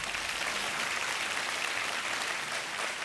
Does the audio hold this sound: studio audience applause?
yes